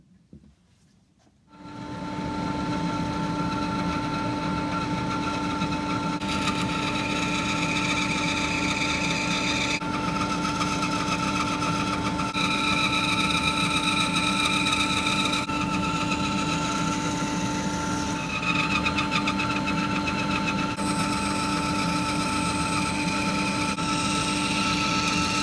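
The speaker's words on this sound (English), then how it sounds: "So the next thing will be just band sawing it out." A band saw cuts out a wooden blank for a miniature tailor's dummy carving, a steady loud whine and motor hum starting after a short quiet moment and running continuously with slight changes in pitch as the blade moves through the wood.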